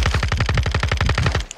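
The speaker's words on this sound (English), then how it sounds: "I'm being shot at still, but I'm fine." Automatic gunfire from the video game Warzone DMZ hammers out in a fast, even burst of about twenty loud, close shots, then cuts off abruptly.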